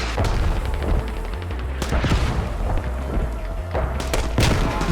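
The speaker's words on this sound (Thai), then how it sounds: "มีปืนใหญ่ลง" Artillery barrage in the military shooter game Squad: repeated heavy booms and sharp explosive cracks land in irregular bursts over a rumbling low-end backdrop, loud and close, with scattered gunfire between impacts.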